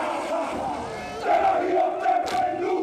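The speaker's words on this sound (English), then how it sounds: "Supporters were out in droves today to cheer on their whānau." Crowd of supporters cheering and calling out loudly at an elite Kapa Haka performance, a dense, continuous roar of many voices with shouted cries swelling in the second half.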